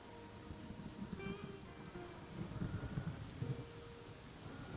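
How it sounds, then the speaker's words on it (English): Steady rainfall in the video game Genshin Impact, a soft continuous patter at low level with faint musical tones from the game drifting over it and no voices. "Good, and it's raining outside."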